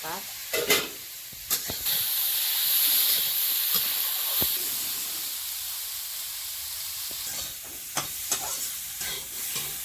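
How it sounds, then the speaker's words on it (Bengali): Small freshwater fish, rubbed with turmeric and salt, sizzle steadily in a hot pan, a broad hiss broken by sharp pops and spatters from stirring, close and moderately loud. "এটা ভালো করে ভাজা হয়ে গেছে"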